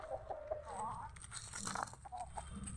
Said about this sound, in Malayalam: ഇതാണ് ഗൈസ് നമ്മുടെ കോഴികൾ